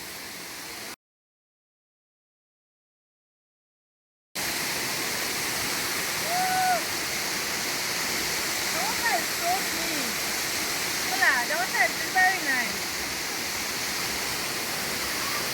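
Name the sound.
Adom waterfall flowing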